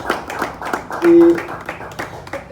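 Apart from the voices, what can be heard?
audience clapping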